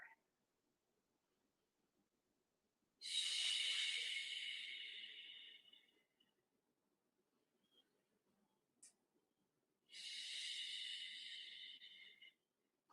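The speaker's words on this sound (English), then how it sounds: "Let us breathe 3 breaths here" Two slow, deep breaths in a yoga child's pose, each a long airy exhale close to the mic, separated by quiet pauses.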